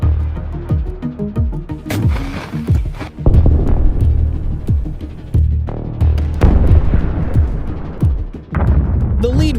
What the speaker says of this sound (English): Javelins are launched at advancing BMPs carrying infantry. One finds its mark, leaving the vehicle heavily damaged.